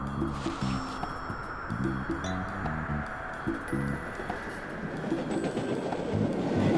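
A three-locomotive train rumbles and clatters at a station in the horror adventure game Chronicle of Innsmouth, a steady mid-distance rolling noise with rhythmic wheel clacks and brief tonal squeals layered over it.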